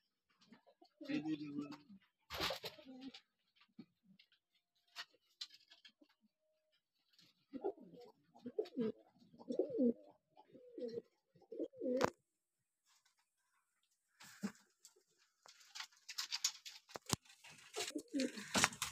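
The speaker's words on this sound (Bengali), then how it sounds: "এগুলোর অন্য একটা নাম হচ্ছে লাহোরি। আপনি দেন কত সুন্দর, এবং সাইজ মাশাআল্লাহ অনেক বড়, খুব সুন্দর ডাকতেছে।" Lahori pigeons, large birds, cooing in a pigeon loft, repeated low throaty coos in several bursts at close range, with soft rustles and occasional sharp knocks between calls.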